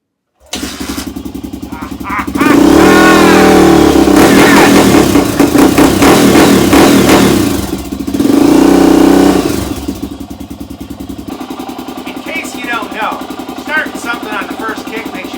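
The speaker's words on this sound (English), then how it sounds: "Let's see how many kicks it takes to start it." A dirt bike with ignition on, fuel on and choke set is kicked over and catches, then revs loudly in two long surges before dropping back to a rough, popping idle; people talk briefly.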